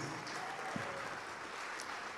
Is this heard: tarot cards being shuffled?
no